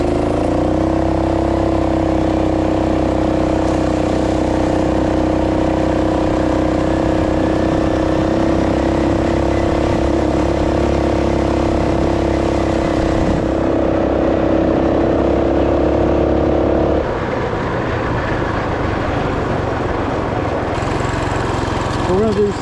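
2WD Roko Ranger off-road bike pulling away in second gear, a steady buzzing motor drone that holds evenly for a long stretch and then shifts to a rougher, changing tone near the end, loud and close.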